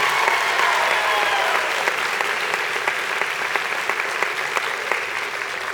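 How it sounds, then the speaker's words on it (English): Sustained applause from a concert audience at a band encore concert, dense and steady clapping that fills the whole stretch at even loudness before thinning slightly toward the end. "let's give him a round of applause for a great job tonight"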